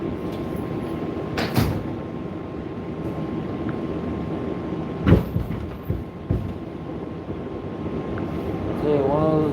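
A Flushing–Main Street bound 7 local subway train running with a steady low rumble, broken by a few sharp clunks and a brief rising electric whine near the end, heard from inside the car.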